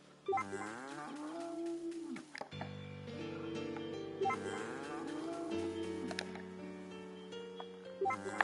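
Cows moo in long, tonal calls in the Story of Seasons: A Wonderful Life farming game, two drawn-out lowing calls with a short pause between them and no talk over them.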